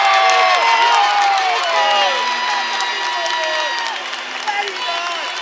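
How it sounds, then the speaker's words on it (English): A large arena crowd at the World Judo Championships roars and cheers, loud whoops and shouts layered over sustained applause that gradually eases slightly toward the end. "the crowd have just erupted"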